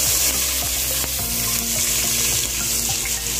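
Chopped onions and a green chili hit hot oil in a pan, sizzling and crackling steadily with stirring clatter, close and continuous.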